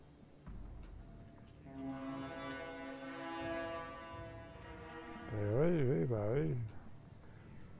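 A boat horn sounds as a long, steady droning tone, followed by a wobbling, horn-like voice that seems to imitate it, close and moderately loud.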